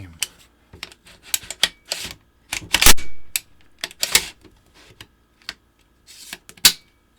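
A Geissele Super Charging Handle racked repeatedly on an HK417 rifle, giving a series of sharp metallic clacks and slides in irregular bursts, close and crisp, with faint quiet voices in the background.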